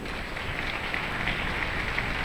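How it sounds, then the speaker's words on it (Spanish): A church congregation applauds during a sermon, a steady, dense wash of clapping from many hands that holds evenly throughout with no voices. "dale ese aplauso al Señor"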